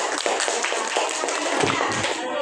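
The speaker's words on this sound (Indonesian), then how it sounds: "berikan tepuk tangan dulu untuk temannya" Students in a classroom clap for a classmate, a brief, busy burst of hand claps with voices mixed in, fairly close and steady.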